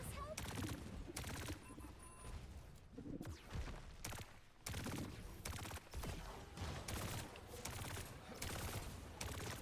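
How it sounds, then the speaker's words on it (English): Juno fires shots in the Overwatch 2 video game during a school esports match between West Delaware JV and Waterloo East: rapid bursts of gunfire repeat steadily and sound faint and distant, with game noise throughout. "as Juno supporting, keeping the team alive, going in the air and firing some shots"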